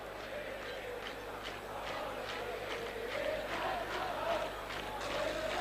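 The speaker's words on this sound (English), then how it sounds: "Judging from the noise of the crowd, you'd think this match was taking place at Stamford Bridge" A football stadium crowd at the 1971 Cup Winners' Cup Final between Chelsea and Real Madrid roars and chants continuously, rhythmic surging cheers heard at a distance and fairly faint.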